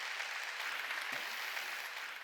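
A church congregation claps together during a Sunday worship service, a dense, sustained wash of applause from many hands that holds steady and fades slightly at the end.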